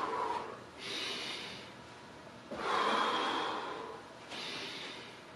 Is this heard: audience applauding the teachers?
no